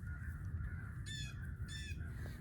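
Crows caw during a Missouri crow hunt, two quick raspy bursts of calls at moderate distance, faint over a low rumbling outdoor background with no talking.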